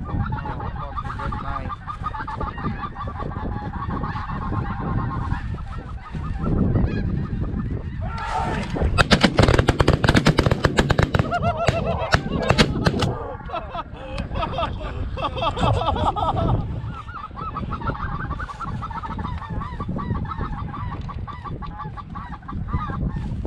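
A flock of geese honks repeatedly during a late-season goose hunt in California, with a burst of sharp, loud gunshots in the middle while the honking carries on around them.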